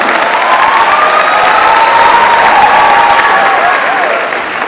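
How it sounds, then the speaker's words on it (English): A large audience at a public awareness event on head injury breaks into loud, sustained applause mixed with some cheering, a dense wash of clapping that fades slightly at the end. "Thank you so much, ladies and gentlemen, for your encouragement and for all the applause that you so generously give me"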